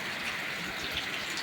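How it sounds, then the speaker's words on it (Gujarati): Heavy rain pouring down on a farm with cotton fields: a steady, dense hiss of falling water, fairly faint and even throughout, with no talking. "એટલો બધો વરસાદ પડી રહ્યો છે"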